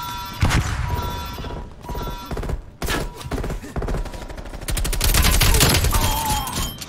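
An artillery strike in the Call of Duty: Cold War video game on a dirty bomb match, with a rapid barrage of loud booming impacts and gunfire crackling through most of the clip.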